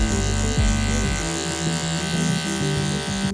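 Electric hair clippers buzz steadily and close up while cutting hair to soften a line in a structured layered haircut, the motor pitch wavering as the blade moves through the hair.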